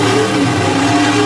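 A monster truck engine revs hard in the dirt-floored New Holland Arena in Harrisburg, Pennsylvania, a loud, steady, close roar with no pauses.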